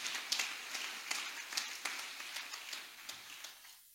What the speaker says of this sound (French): Acclamons très fort pour la parole du Seigneur